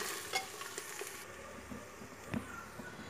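Spices are stirred in a pan for taro leaf curry, with a soft sizzle and scattered scraping and tapping strokes of the spoon, close and quiet, with no talk over them.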